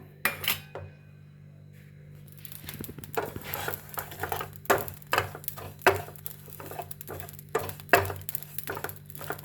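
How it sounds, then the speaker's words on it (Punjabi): Cumin and ajwain seeds dry roasting in a pan, with a run of light metallic clinks, taps and scraping stirs that come at an irregular rhythm over a steady low kitchen hum, close by and without speech. "ਜਮੈਨ ਨੂੰ ਤੇ ਜੀਰੇ ਨੂੰ ਨਾ ਡਰਾਈ ਰੋਸਟ ਕਰਾਂਗੇ ਇਧਰ ਆਪਾਂ ਪੈਨ ਰੱਖ ਲਿਆ"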